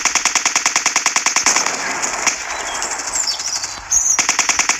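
Automatic rifle fire in the shooting game Trigger Fist during a team deathmatch, fast evenly spaced shots in a long burst, a pause with lighter noise, then the rapid firing resumes, loud and close.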